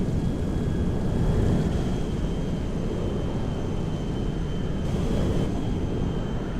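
DC-10-30F jet engines roaring at full takeoff power in GTA 5, a loud, broad and steady rumble with a faint high whine running through it, and no voices over it.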